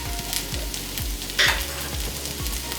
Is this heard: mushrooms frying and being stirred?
yes